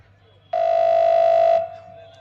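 A single steady electronic telephone tone sounds clearly for about a second, then cuts off, leaving faint background hum.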